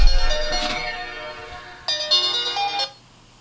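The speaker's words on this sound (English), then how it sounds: "We've got Dale Nichols from the West Midlands ringing in" A telephone rings for a caller phoning into a boxing talk show, a loud electronic ringtone with a bright repeating tone pattern that cuts off abruptly near the end.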